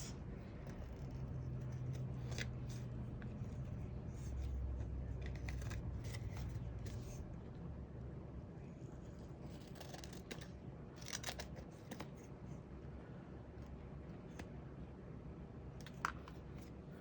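Scissors trim excess paper at a crafting table, producing faint, scattered snips and light paper rustles under a steady background hum.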